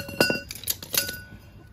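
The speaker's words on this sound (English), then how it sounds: "And do that with the hammer." Several light hammer strikes on metal of a Toyota van being lowered ring out in quick succession, bright and clinking, with a short resonant tail, close and fairly quiet.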